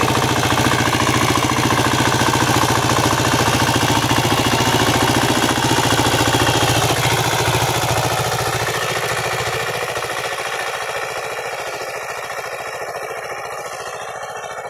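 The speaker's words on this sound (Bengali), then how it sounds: "মেশিনটা কেনার পরে, এই যে মিনি পাওয়ার টিলার" A mini power tiller's small engine runs loudly and steadily at close range in a farm field, a continuous throbbing drone that eases slightly in loudness toward the end, with no talking.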